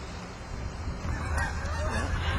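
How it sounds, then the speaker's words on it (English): Geese honk repeatedly in the background on a river, a steady chorus of calls over constant low water and ambient noise, fairly distant and continuous. "The geese are probably taking over in the background."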